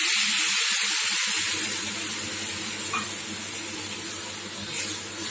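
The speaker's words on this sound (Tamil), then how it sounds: "ரவை நல்லா வறுபட்டு பொரிஞ்ச உடனே எடுத்து வச்சிருக்கிற இந்த 1¼ கப் பாலை போட்டுடணும்" Cold milk hits hot, well-roasted semolina in a pan for a Konkani sapaath, setting off a steady broadband sizzling hiss that carries on loudly for several seconds after a brief low rumble at the start.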